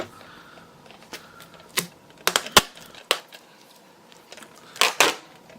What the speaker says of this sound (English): Alright, so I'm gonna duct tape it like this.